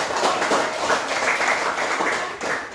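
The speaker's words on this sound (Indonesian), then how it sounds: "tepuk tangan untuk Jepandi." A classroom of pupils applauds a classmate, steady dense clapping from many hands filling the room and holding for a few seconds, with no voices.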